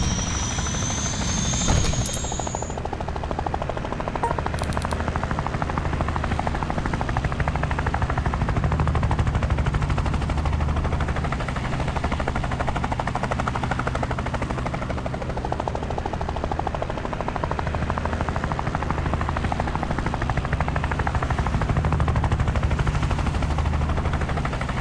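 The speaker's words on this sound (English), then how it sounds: "You just need a helicopter." A video game helicopter's rotor thumps steadily throughout, loud and close, with bursts of machine-gun fire over the engine roar.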